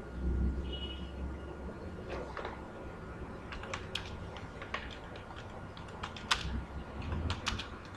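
Typing on a computer keyboard, with quick irregular key clicks tapping close by at a soft level over a low steady hum, and no talk.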